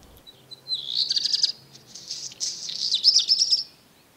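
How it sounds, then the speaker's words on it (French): A black redstart sings two bright, high-pitched warbling phrases separated by a short pause, clear and fairly close against a quiet background. "C'est le rouge-queue noir."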